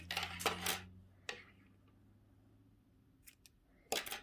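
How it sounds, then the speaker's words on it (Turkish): White knitting yarn snipped with scissors while knitting baby booties, a few short crisp metallic clicks and snips separated by quiet pauses, close and faint. "Şimdi burada beyaz ipimi kesiyorum."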